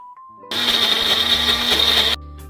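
An electric blender grinds cauliflower leaves into a paste, starting abruptly with a loud steady whir that runs for under two seconds, then cuts off, heard close and alone.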